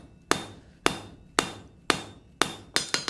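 Hammer blows forging hot copper tongs on an anvil, half on, half off: eight sharp metallic strikes at a steady beat, then quickening into a rapid cluster at the end, close and clear with no talk.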